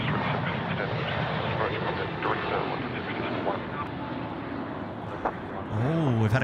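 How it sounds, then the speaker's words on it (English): Jetstar Airbus A321 rolling for takeoff on the runway, a distant broad engine roar that holds steady, with voices talking over it and a brief warbling tone near the end. "Here we go, the Jetstar A321 now rolling."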